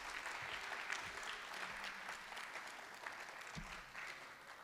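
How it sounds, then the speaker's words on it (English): Applause from a high school audience at an Asian American and Pacific Islander celebration, a steady roar of many clapping hands heard from a distance, sustained and even with scattered cheers underneath. "Give him another round of applause"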